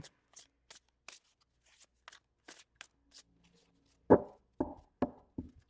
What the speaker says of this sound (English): I feel like it's gotten pretty shuffled up.